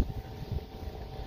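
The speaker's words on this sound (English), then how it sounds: "it is windy, very windy today" Wind blowing across an open homestead food forest, a steady low rumbling buffet with gusty surges against the microphone, no voices.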